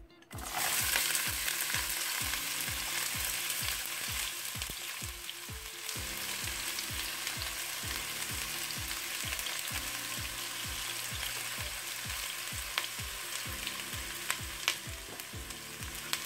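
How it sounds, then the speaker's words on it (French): Onions frying in oil in a pan for bolognese sauce, a loud continuous close sizzle with a faint rhythmic scraping of stirring, unbroken for the whole stretch and no voices. "je vais rajouter le reste de mes oignons"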